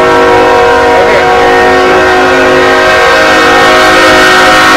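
A train rumbles past with a loud, sustained horn blaring over the steady roar, close and continuous throughout.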